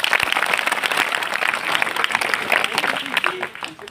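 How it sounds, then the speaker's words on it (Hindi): Loud, dense applause from a crowd of students at a school anti-drug pledge event, sustained throughout and tapering slightly at the end. "एक बार अपने लिए जोरदार ताली।"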